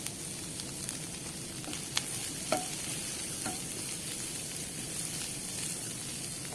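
Sliced onions frying in a pan with oil for an onion pasta, a steady close sizzle with a few sharp stirring scrapes and clicks, no voices.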